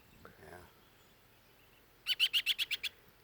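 A baby bird calling for its mother gives a rapid run of about seven sharp, high chirps, close and clear in a quiet room. A short, soft murmur comes earlier.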